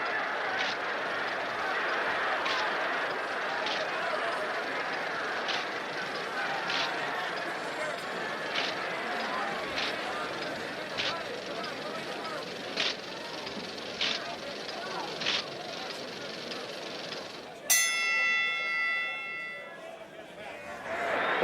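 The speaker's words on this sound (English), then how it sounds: "There's the bell." Near the end a single bright bell clang rings out at a boxing match and decays with a long metallic shimmer over a hissing crowd roar; earlier, faint repeated clicks sit under the noise.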